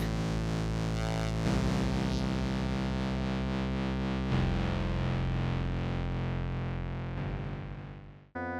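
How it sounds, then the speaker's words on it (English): Ableton Live 12's Drift synth plays a simple sine wave on oscillator 1 with FM synthesis, stepping between pitches in a simple melody, held notes with a buzzy, effected character before fading out. "So I've got drift playing a simple sine wave here on oscillator 1."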